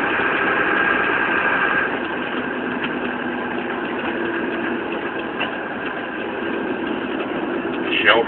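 Starksboro Engine One, a fire engine at a mill fire, idles with a steady mid-pitched diesel rumble and faint tonal whine throughout, close and continuous, with a brief clunk near the end.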